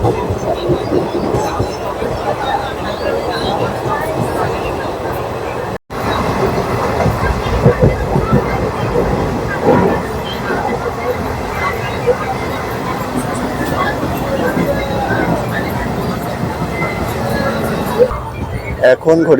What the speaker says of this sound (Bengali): আমাদের ট্রেন কিন্তু এখন দাঁড়িয়েছে শ্রীরামপুর স্টেশনে এই মাত্র শ্রীরামপুরে ঢুকলো